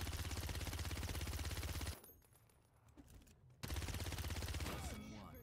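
Rapid automatic fire from Koga's twin submachine guns in the game Paladins, a dense, loud rattling burst that cuts off for a quieter gap with scattered clicks, then resumes at full intensity.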